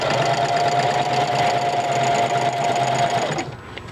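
A home sewing machine runs steadily, stitching fold-over elastic onto a flip-style hybrid cloth diaper, its motor whirring in one continuous loud burst for about three seconds before cutting off.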